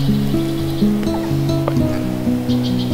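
Continuous flowing river water in the RPGMaker game Aleph, a constant hiss layered under a looping melodic game soundtrack with stepping notes.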